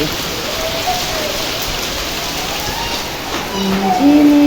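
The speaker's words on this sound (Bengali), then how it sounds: "তো হঠাৎ করে ঝড় বৃষ্টি শুরু হয়ে গেছে" Heavy rain from a sudden storm in Dhaka makes a continuous, loud wash of drops on surfaces, and a voice briefly speaks over it near the end.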